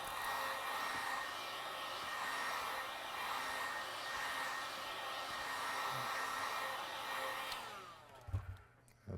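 A heat gun blows steadily on the screen of an iPad Pro A1876 12.9-inch third generation, a close, even whooshing roar that holds for several seconds and then cuts off, followed by a few faint handling clicks.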